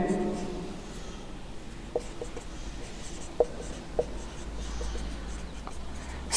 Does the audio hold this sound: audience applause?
no